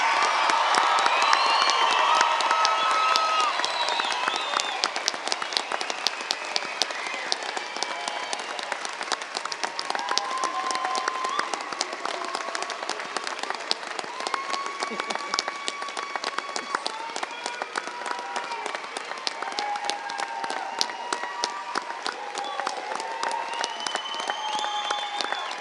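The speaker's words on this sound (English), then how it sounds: "I think we should give our graduates a round of applause." Sustained applause from a large crowd at a graduation ceremony, dense clapping with scattered cheers and whoops, steady and loud from start to finish.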